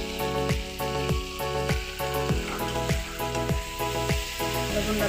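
Spices fry in hot oil with a steady sizzle while a utensil scrapes and stirs the pan in a regular rhythm, each stroke a short scraping knock over the constant hiss.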